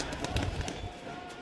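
Malabai pigeons, breeding pairs kept for high flying, cooing softly nearby in a few short low murmuring calls with faint rustling around them.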